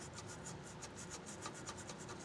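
A wire brush scrubs rust from the mounting holes of a Curt E16 fifth wheel hitch installation on a 2019 Ram 2500, giving a steady close-up rasping with quick repeated strokes.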